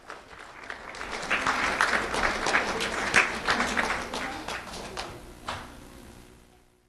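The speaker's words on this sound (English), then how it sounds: "Let's have a round of applause for Abraham Rodriguez." Applause from a room full of people at a sheriff's office award ceremony honoring an elementary school student, steady clapping that swells and then fades out over several seconds.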